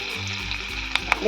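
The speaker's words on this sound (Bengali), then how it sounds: "ভালো করে ভেজে নেব।" Dried red chillies, curry leaves and mustard seeds frying in hot oil in a pan: a brief, close, steady sizzling hiss with a couple of small pops.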